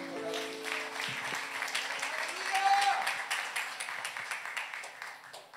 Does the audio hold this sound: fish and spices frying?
no